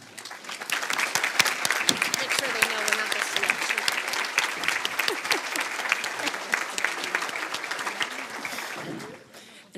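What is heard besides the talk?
audience applause for the organising committee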